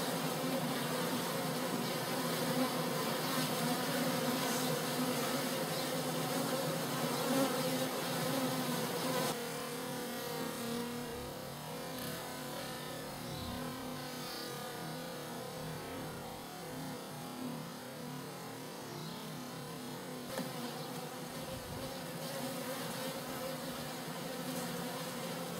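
A swarm of honeybees drones at the hive, a dense continuous buzz that stays steady throughout, moderately close and with no talk.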